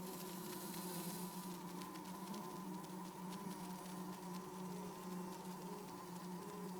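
A bee buzzes steadily and close by, a continuous droning hum with no voices.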